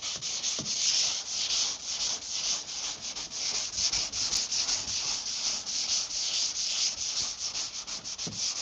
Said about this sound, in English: Because you just running the 180 over the surface.